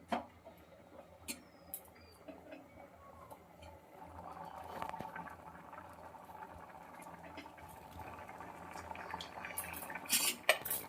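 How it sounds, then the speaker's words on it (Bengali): Vegetable khichuri of gobindobhog rice and winter vegetables is stirred in a cooking pot, with soft scraping and scattered metallic clinks of the spoon against the pot, fairly quiet, building into a busier patch of stirring before a few sharper knocks. "আজ একবার ভালো করে নাড়িয়ে দেবো, উপর নিচ করে দিতে হবে যাতে নিচে না লেগে যায়।"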